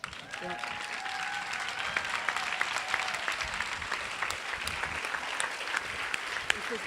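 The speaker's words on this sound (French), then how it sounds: "je vous demande de vous lever et on va vous applaudir" An audience applauds the men who have stood up at a talk, a dense, sustained round of clapping at moderate loudness with some voices underneath and a brief tone near the start.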